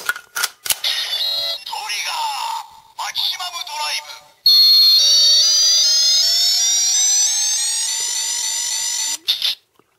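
A DX Double Driver toy gives a rising electronic charging whine that climbs steadily for several seconds, loud and close, after a burst of choppy electronic chirps and sound effects.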